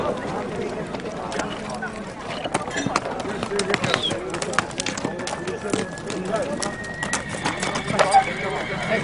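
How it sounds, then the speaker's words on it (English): A big horse named Martin neighs and whinnies while hooves clip-clop at a trading spot in Central Asia, with people talking over the animal noise. "Now they're asking to test ride my biggest horse, Martin."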